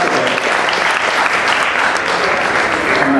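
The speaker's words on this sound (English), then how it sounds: "I'd like us all to give a very big round of applause to the priests who make this all possible." Sustained audience applause at a Hindu temple consecration ceremony in Arizona, honoring the priests: dense, steady clapping from a large crowd, loud and even throughout with no break.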